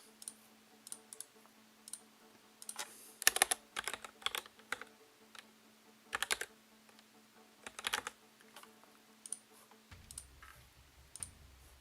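Computer keyboard typing at a gaming tournament for Hellish Quart, with irregular bursts of sharp key clicks and clacks over a faint steady hum, close and fairly quiet, no talk.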